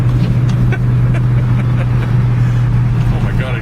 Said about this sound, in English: I just had the Corolla at 80